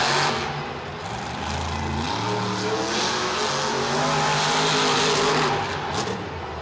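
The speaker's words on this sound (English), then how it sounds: "Yeah, that engine's popping a lot," Monster truck racing at Monster Jam in MetLife Stadium, 2013: a loud, continuous engine roar with rough, sputtering revs and tire noise, sustained close up throughout.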